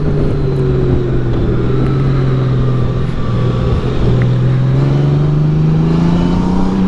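Motorcycle engine held in sport mode with a quicker-shifting gearbox, a loud, steady near drone with rising and falling pitch, no talk over it.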